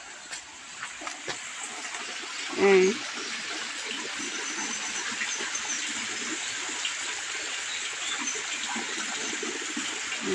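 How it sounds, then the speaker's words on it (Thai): A small stream trickles and gurgles in a steady, fairly quiet wash beside rice paddies, with a brief splash or voice-like sound partway through. "นี่มีน้ำไหลอยู่เด้ ไหลนิดนิด"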